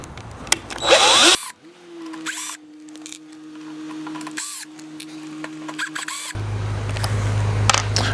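Cordless power drill backing screws out of an RV awning roller: a short loud burst, then a long steady whirring run and a final brief buzz, with rustling handling noise close by and no talking.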